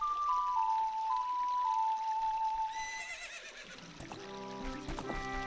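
A horse in Zelda: Ocarina of Time gives a single whinny after a sustained melodic tone, followed by a short musical flourish and faint clopping.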